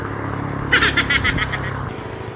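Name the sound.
live chickens at a roadside stall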